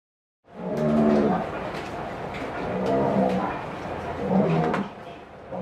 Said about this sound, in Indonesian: Presiden Prabowo membeli sapi jenis simental dengan berat 896 kg di Desa Penyambungan, Kabupaten Mandailing Natal, Sumatera Utara.